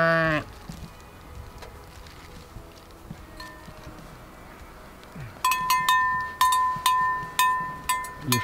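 Sheep begging for food on a Norwegian road, several close bleats at the start and scattered later, followed by a run of rhythmic clinking bell-like taps over faint ambient noise.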